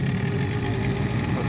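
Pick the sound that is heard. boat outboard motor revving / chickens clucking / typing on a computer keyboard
boat outboard motor revving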